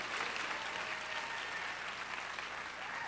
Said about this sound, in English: round of applause for the lady who did it well